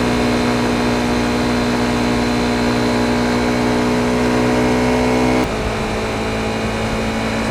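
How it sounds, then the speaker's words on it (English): A Honda CRF250L engine running steadily while riding uphill in fifth gear, a loud, smooth, constant drone heard close from the bike, with a slight change in tone near the end. "It's a very smooth motor."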